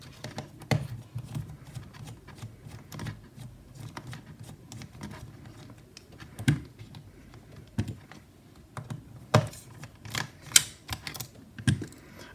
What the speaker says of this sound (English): So we use our Phillips head screwdriver to